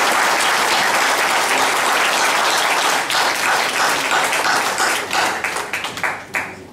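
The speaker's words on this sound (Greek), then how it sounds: "Και σε αυτό το σημείο θα σας παρακαλέσω για ένα χειροκρότημα" An audience at a book presentation on Meganisi gives loud, sustained applause that thins toward the end into scattered individual claps as it dies away.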